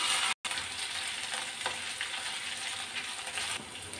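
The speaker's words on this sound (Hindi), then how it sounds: "और अब हम इसमें देखिए हरी मिर्च, अदरक, जीरा और मेथी डाल रहे हैं" Green chili, ginger, cumin and fenugreek crackle and sizzle steadily as they hit hot oil for an aloo kofta curry, a dense, close frying hiss that carries on without a break.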